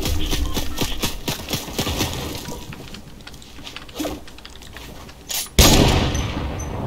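Gunfire in Fortnite during a duos match, including sniper rifle shots: repeated sharp cracks through the first seconds, then a louder single blast near the end, with no talk.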